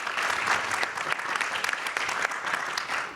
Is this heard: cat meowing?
no